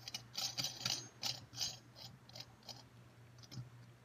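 Metal shower valve trim piece being screwed onto a gate valve fitting, giving a series of small ratcheting clicks in irregular bursts, close and fairly quiet, with a steady low hum underneath.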